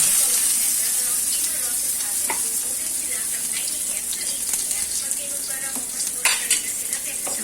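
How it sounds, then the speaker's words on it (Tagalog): Garlic and onion sauté in hot oil with a steady sizzle, as a utensil stirs through the pan and scrapes and clinks against it now and then. "ilalagay ko na ang bawang. Haluin na natin. Tapos ang sibuyas."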